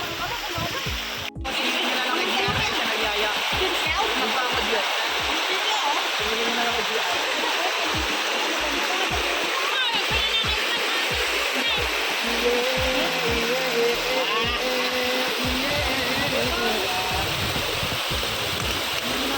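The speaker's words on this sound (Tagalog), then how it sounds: "Mapita Falls, Lagoon." Mapita Falls in Aguilar, Pangasinan pours in a constant, loud rushing roar of falling water, with voices talking over it throughout.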